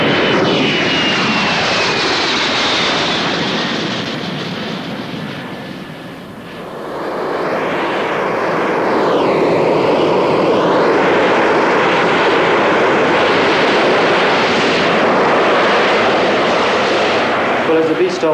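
Harrier jump jet engine roaring during a 1970s RAF vertical takeoff training sortie, a loud sustained howling jet drone that dips briefly then swells to full power and holds steady.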